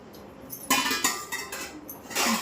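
A child drops metal bowls into a container, making several loud clanks and clinks in an irregular sequence, close by.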